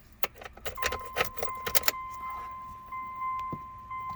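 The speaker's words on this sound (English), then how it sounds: "when I turn my key on" Key jangling and turning in the ignition of a 2001 Mitsubishi Mirage, a cluster of close metallic clicks followed by a steady electronic chime tone, quiet and without talk.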